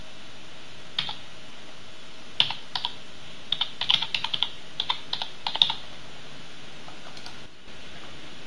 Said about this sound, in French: je tape les identifiants de mon compte Google